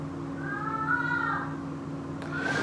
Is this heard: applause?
no